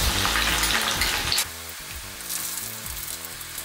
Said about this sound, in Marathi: आणि 10 ते 12 लसणीच्या पाकळ्या ज्या मी पातळ चपट्या करून घेतल्या त्या घालायच्या.